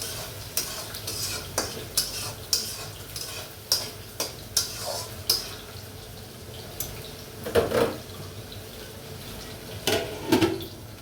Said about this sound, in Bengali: মশলা দিয়ে কষিয়ে নিই